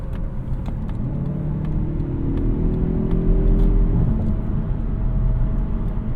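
A 2024 Mazda CX-30 accelerating to pass on the road, its engine note rising steadily in a smooth, droning climb over constant tire and wind rumble heard from inside the cabin, with no talk.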